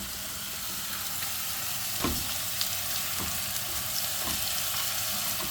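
Food seasoned with adobo stirred in a lightly oiled frying pan: a close, steady sizzle with a few scraping utensil strokes breaking through, and no one speaking.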